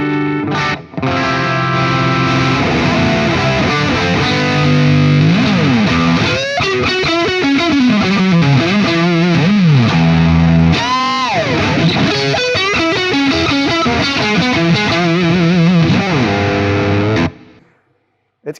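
An electric guitar is played through a vintage Marshall amp at the Marshall factory, with loud, distorted, effect-laden riffs, sliding bends and sustained chords. It plays continuously for most of the clip, then cuts off near the end.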